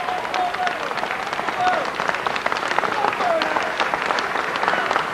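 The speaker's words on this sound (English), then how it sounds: "deserved applause." Spectators at a 1989-90 rugby league match between Trafford Borough and Keighley applauding after a try, a sustained wash of clapping and crowd noise with a commentator talking over it.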